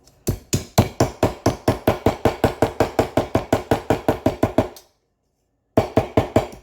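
Rapid, rhythmic hammer blows on metal kitchen tongs, over twenty sharp strikes in a steady beat, then a brief silence before a few more blows resume.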